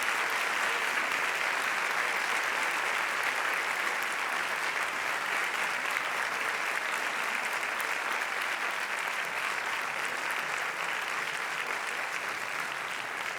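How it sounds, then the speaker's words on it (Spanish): A round-table audience gives a strong, sustained burst of applause for three panelists. The dense clapping stays even and full for the whole stretch, with no voices on top. "así que un fuertísimo aplauso, por favor,"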